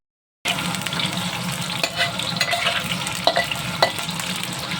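Carrots frying in a pan for chicken curry, a continuous close hiss of oil with scraping stirs and occasional sharp pops and clicks, starting abruptly after a moment of silence.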